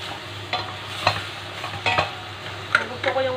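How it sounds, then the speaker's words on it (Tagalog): Chicken binakol soup stirred in a pot, with a spoon scraping and clinking in a few separate strokes against a steady low simmer. "Ikot mo lang yan, susyawan."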